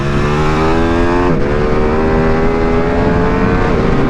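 A 2022 Ducati Streetfighter V2 motorcycle engine roars loud and close on a track lap, holding a steady high drone that dips briefly at a gear change and then climbs again.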